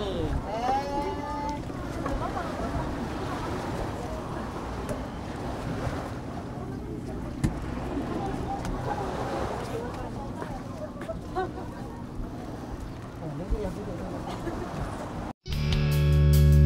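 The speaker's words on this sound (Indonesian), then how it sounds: "Karena kapal boat yang kita naiki ini termasuk jenis kapal kecil" A small boat crosses the sea from Lembar harbour toward Mataram, with constant engine drone, rushing water, waves and wind buffeting the microphone, loud and close, while a voice talks over it before a brief cut near the end.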